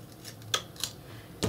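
Scissors trim excess material at an angle on the corner of a Secret Garden slipcase, giving a few short, close snips with quiet pauses between cuts.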